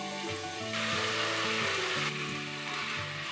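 Pork ribs frying in hot, heavily spattering oil in a pot, a loud steady sizzle with crackling bursts and no talking.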